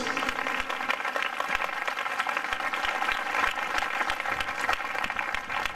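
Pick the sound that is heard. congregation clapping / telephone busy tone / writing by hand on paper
congregation clapping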